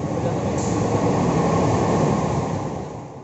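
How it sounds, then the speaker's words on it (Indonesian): A train pulls into a station with a loud, dense rolling rumble that holds steady and then eases off toward the end as it slows. "Keretanya udah nyampe."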